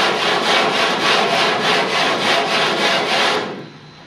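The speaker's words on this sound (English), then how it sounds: "Again, coarse sandpaper." Coarse sandpaper rasps along the trimmed lower edge of the top half of a Whisper homebuilt aircraft fuselage. About a dozen rhythmic back-and-forth strokes sound loud and close, then the scraping stops and fades near the end.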